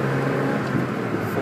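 Mazda MX-5 Miata with a hand clutch, its engine droning steadily and close in mid-turn as the driver shifts into second gear, a continuous car engine hum with no clear rev spike.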